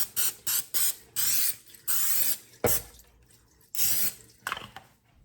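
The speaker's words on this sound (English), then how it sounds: "we're going to spray a 9x13 pan" Short, hissing bursts of cooking spray onto a 9x13 baking pan repeat in quick succession, close and loud, with a brief clatter partway through.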